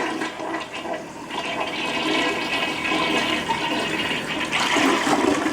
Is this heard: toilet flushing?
yes